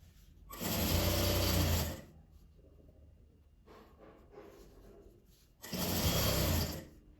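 A sewing machine stitching bias binding onto fabric scraps runs in two loud, close bursts of rapid whirring, separated by a quieter stretch of handling and fabric rustle.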